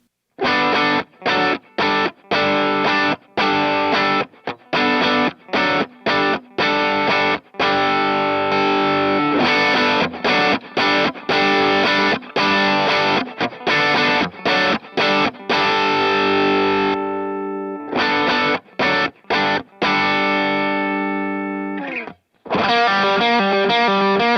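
Electric guitar runs through a Vahlbruch Kaluna II high voltage tube drive pedal, giving a distorted tone with repeated punchy chord stabs and short gaps, then sustained ringing chords and a final choppy burst, loud and with no talk.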